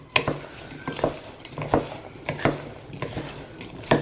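Pasta salad made with coquillettes being stirred in a bowl: a series of close, distinct scraping and clacking strokes in an uneven rhythm, with soft wet shifting between them.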